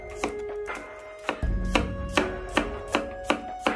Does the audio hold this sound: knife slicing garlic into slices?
yes